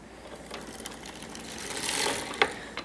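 A vintage sock knitting machine is cranked around its cylinder, giving a soft, quiet mechanical clatter with small clicks that build toward a sharper tick near the end, and no talk.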